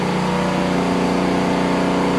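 A 2021 Sea-Doo Fish Pro jet ski engine runs at a steady, loud drone with a strong low hum and constant rumble, no voices.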